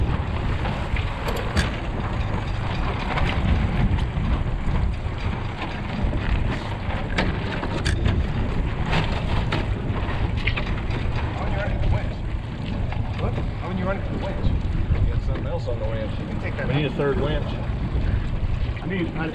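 A MacGregor 26x sailboat out in strong wind near Tampa, with steady gusty wind buffeting, water rushing, and rigging rattles throughout, loud and close, with someone talking at times.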